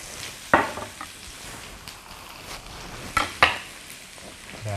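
Vegetables, capsicum and cabbage with ginger and chilli, sizzle steadily in a hot pan for a rice noodle and tofu stir fry, with a few sharp scraping stirs cutting through the constant frying hiss.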